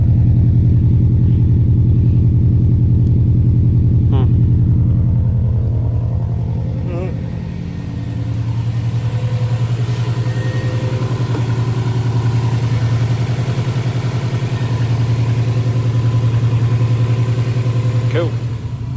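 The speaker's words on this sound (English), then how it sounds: "Let it warm up and see what it does. She was idling a little rough." A Subaru WRX Bugeye engine idles roughly after warm-up, a steady loud low rumble with uneven pulsing and a slight dip in pitch midway, with an exhaust leak giving a tractor-like tone.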